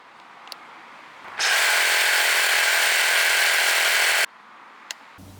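A Stihl HSA 94 T battery hedge trimmer runs at its top setting of 5,000 strokes per minute, a steady high-pitched buzz lasting about three seconds, then cutting off to quiet.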